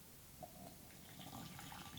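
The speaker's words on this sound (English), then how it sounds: "So the first thing we'll do is pour the water" Water pours faintly into a vessel for brewing Japanese tea, a soft continuous trickling with light splashes, quiet and close with no talk.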